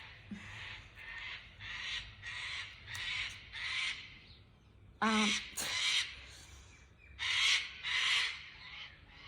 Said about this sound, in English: just watching the cockatoos right now